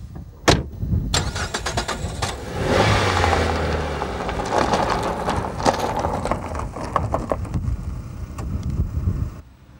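Citroen Picasso car engine starting: a few sharp clicks and clunks, then the engine catches and settles into a rough, fluctuating run, close and moderately loud.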